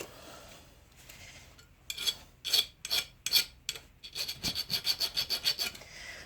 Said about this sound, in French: Je vais la limer un poil.